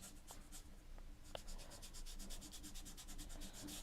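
Dry paintbrush dabbing and scrubbing warm white paint onto a canvas, a close, faint run of quick rhythmic bristle rubs and scratches with no voices.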